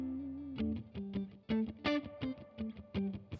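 Guitar notes run through the distorted reverb of a Supro Royale tube amplifier, a series of plucked tones with gritty, smeared decay that lingers between picks, played alone.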